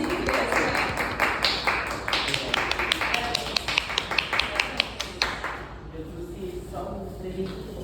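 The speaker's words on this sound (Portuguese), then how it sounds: "uma salva de palmas" A small group gives a round of applause at an internship defense, with brisk, uneven clapping for about five seconds that then fades into faint room noise.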